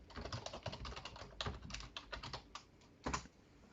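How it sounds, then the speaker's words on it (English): Someone types on a computer keyboard, a quiet, close flurry of irregular key clicks with a few brief pauses and a louder burst near the end. "let me just type it correctly"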